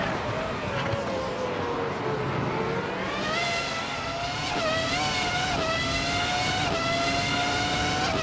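Race car engines droning together at the start of a race in a racing game, a 2006 Honda Aurora 106 on pole, with steady high whining revs rising in pitch as the cars pull away, loud and continuous.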